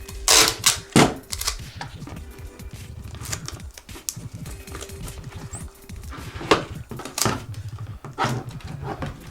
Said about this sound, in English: I'll be using tape to hold it in place.